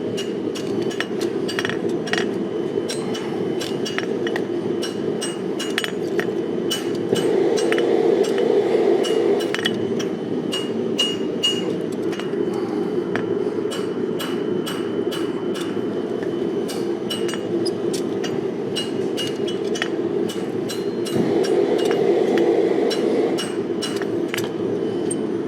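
Hand hammer planishing forged decorative metal on an anvil at a blacksmith hammer-in, producing a long run of steady, bright ringing clinks with an even rhythm and a constant background hum, with no talking.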